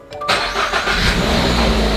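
A Subaru BRZ on its stock exhaust cranks over and fires up at close range, settling straight into a steady, fairly subdued engine hum.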